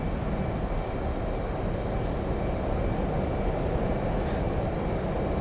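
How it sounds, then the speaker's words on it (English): An F/A-18 jet engine roars at full afterburner in a flight simulator game, a loud, steady, broadband rumble with no pauses and no talking. "And now throttle to full burn"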